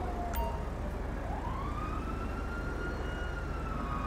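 An ambulance siren in the video game GTA 5, a faint wailing tone rising and falling over steady low engine rumble, sounding distant rather than close.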